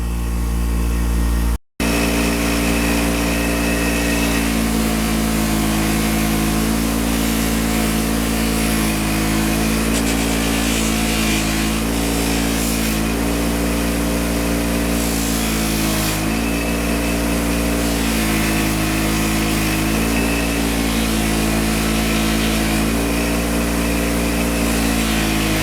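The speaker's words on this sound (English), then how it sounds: "clean up some of these nuts on a buffing wheel" A bench buffing wheel spinning steadily while motorcycle wheel nuts are pressed against it, a loud continuous motor hum with a grinding buzz that shifts slightly in pitch as pressure varies, close and uninterrupted.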